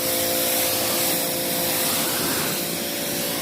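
Water spray rinsing a Toyota Prado SUV outdoors, a steady loud hiss of spray hitting the paint that continues without a break.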